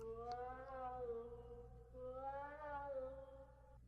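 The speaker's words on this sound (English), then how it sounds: "Sounds like a cat." A cat yowls in the video game Chulip, two long wavering, moaning cries with a pause between them, loud and close over a low steady background hum.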